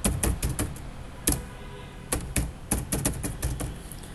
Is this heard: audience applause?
no